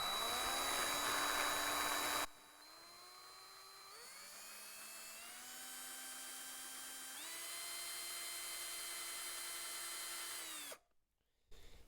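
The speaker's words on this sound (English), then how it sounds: "drill into the top" A power drill whines steadily, its pitch rising in steps as it bites into a plastic model train wagon, then cuts off briefly and restarts near the end.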